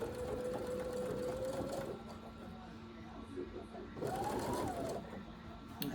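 Sewing machine stitching fabric, a steady close whirring hum running in bursts with a brief slowdown in the middle, while a person talks quietly over it.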